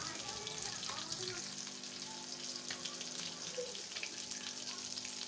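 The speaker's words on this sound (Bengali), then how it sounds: "তারপরে আমি কিছুটা পরিমাণে জল দিয়ে দিলাম।" Water added to a hot pan of cauliflower stems, producing a steady, fairly faint hissing sizzle that continues evenly throughout, with soft bubbling underneath.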